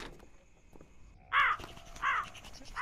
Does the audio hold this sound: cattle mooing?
no